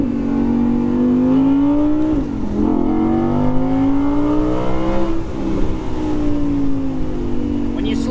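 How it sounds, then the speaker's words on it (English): An Audi R8 V10 Performance revs from the cabin with its engine a foot behind the seats, blending mechanical noise, engine tone and intake roar. The sustained pitch climbs, dips on a shift, then rises again, loud and close with talk over it. "You've got the V10 about a foot behind your head, so you get mechanical noise, you get the engine itself, and you get intake noise"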